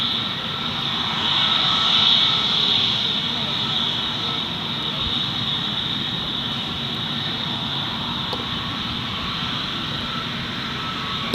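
A jet airliner takes off at Gold Coast Airport, its engines producing a steady, broad roar with a bright whine on top, swelling slightly early on and then holding level at a moderate distance.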